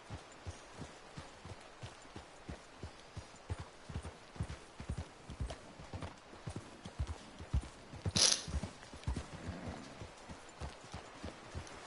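A horse's hooves clip-clop at a steady walking pace in the Western video game Red Dead Redemption 2, with a brief sharp burst partway through and quiet ambience underneath.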